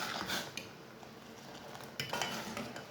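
A metal spoon stirs sugar into tea being made on the stove, giving a continuous soft scraping and clinking against the pot with a couple of brighter knocks; no one speaks.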